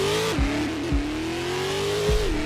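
A Mercedes racing car engine in the video game Driving Empire revs high and steady, dipping in pitch a few times as gears shift, with a constant roaring drone throughout.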